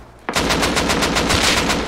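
Rapid automatic gunfire in the video game Rust bursts in abruptly after a moment of quiet, a loud continuous stream of shots with a steady rhythm lasting to the end.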